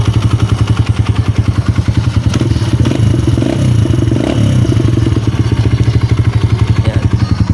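A freshly overhauled Kawasaki KLX 150 motorcycle engine, rebuilt with a new connecting rod and bearings, idles steadily with a fast, even mechanical clatter, loud and close up, with no voices.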